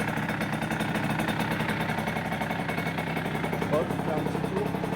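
A rebuilt Rieju motorcycle engine ticks over at a steady idle, a close, even pulsing putter with a faint exhaust note, while someone speaks French over it.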